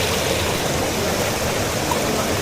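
River water pours steadily into a pool at an abandoned 1980s resort, a constant close rushing and gurgling flow without pauses.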